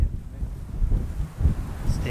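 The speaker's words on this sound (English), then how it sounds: "As you can hear in this video, it was pretty windy" Strong wind buffets the microphone with a steady low rumble and gusty roar, with no other clear sounds.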